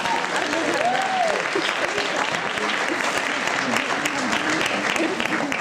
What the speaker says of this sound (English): I think the applause should be entirely for the speakers.